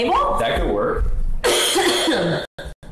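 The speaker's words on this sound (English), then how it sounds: "I have a wee bit of a cough." A woman in a kitchen coughs, a couple of rough bursts, loud and close, amid her own talk in a cluttered domestic setting.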